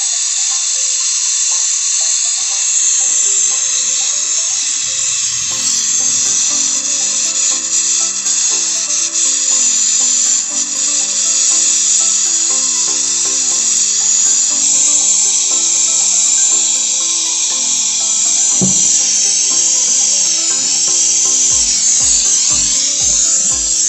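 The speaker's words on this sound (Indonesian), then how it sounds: "Oke, jadi sudah kita las ulang." A steady, loud hiss runs throughout while a refrigerator pipe is re-welded on a fridge that isn't cooling, with a few soft taps near the end.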